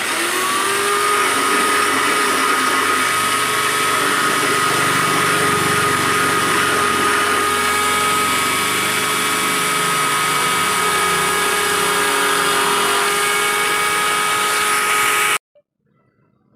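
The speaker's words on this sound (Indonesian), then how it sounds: "Selanjutnya kita bor ya sesuai dengan ukuran lubang jari" A power drill whines steadily and loudly for about fifteen seconds, close by, as it bores a finger hole through a coconut shell ring, then cuts off abruptly.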